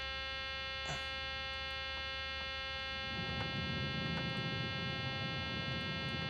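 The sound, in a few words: buzzer going off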